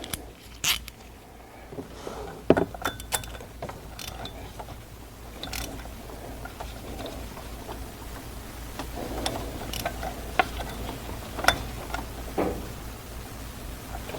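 Wrench tightening the water pump pulley bolts on an Audi Q7, heard as quiet, scattered ratcheting clicks and metallic ticks spread over the clip with low workshop background and no talking.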